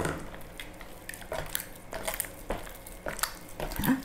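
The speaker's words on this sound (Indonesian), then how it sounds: "Kita lanjut uleni dengan tangan ya, untuk mencampur tepung terigunya." Hands knead cold mackerel fish dough with wheat flour for Palembang pempek, producing soft, irregular squishing and slapping presses with faint crinkles, close and quiet without any talk.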